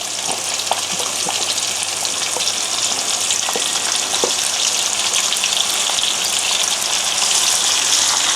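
A steady, loud sizzle of onions frying in a hot pan for chicken paprikash, continuous crackling and hissing close up with occasional small pops.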